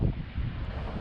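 Heavy wind buffets the microphone with a low, continuous rumble and gusty roar during a Snaptain SP500 drone flight, no voices present.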